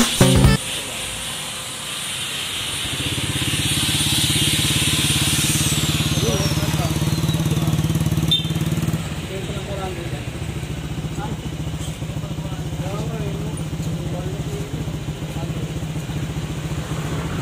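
Honda Click125 scooter fitted with a Yoshimura GP Force exhaust idles close by with a steady, throaty drone and some brief revving, while a voice talks over part of it.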